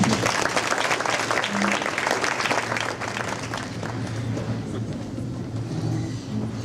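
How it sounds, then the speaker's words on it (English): Applause from an audience at a Juneteenth program, a steady wash of clapping with a low hum and engine-like rumble beneath, continuing evenly and gradually thinning. "Can you give him another round of applause?"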